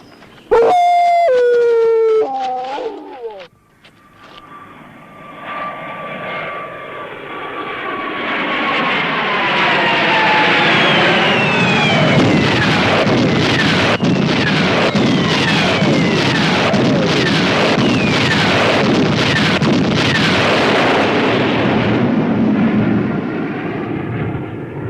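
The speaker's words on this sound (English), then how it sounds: "I'm afraid they're bringing in the bombers." Bomber aircraft roar overhead in a bombing raid, a loud, continuous engine drone swelling with sharp bursts throughout. It follows a few high, howling yelps from a dog at the very start.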